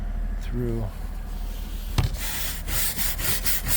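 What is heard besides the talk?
ice scraper scraping ice off car windshield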